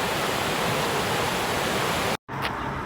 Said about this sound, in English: Quite a bit of flow about the creek at the moment.